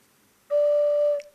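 A single whistle held on one steady, clear tone for under a second, loud and close with a clean start, used to imitate an owl's call, then cut off with a brief breathy tail.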